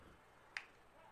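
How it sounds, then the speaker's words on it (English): A single sharp hand clap from a college football quarterback at the line of scrimmage, one crisp isolated smack against quiet background noise. "claps his hands twice"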